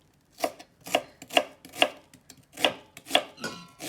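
Onion being chopped with a knife on a cutting board: seven or eight crisp, evenly spaced knife strikes, close and clear, with no talking.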